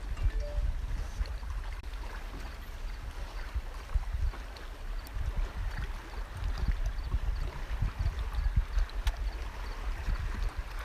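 Choppy water slaps against a fishing boat out on Lake Mead, a steady low rumble of waves mixed with wind buffeting, fairly loud and continuous throughout with no talking.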